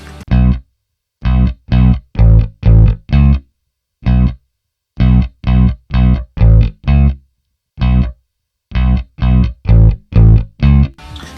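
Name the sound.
two layered bass synth plugins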